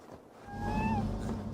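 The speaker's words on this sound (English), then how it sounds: "Who put you up here, little cat?" A cat in Assassin's Creed Valhalla gives a single clear, drawn-out meow at close range over a low ambient hum.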